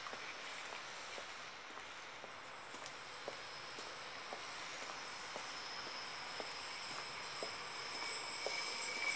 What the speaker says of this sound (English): as the train clicks onto the platform